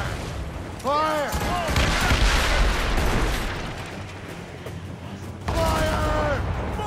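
Cannon and mortar fire from an Assassin's Creed Rogue naval battle booms in heavy volleys and rumbling blasts, loud and close, while voices shout orders over the gunfire.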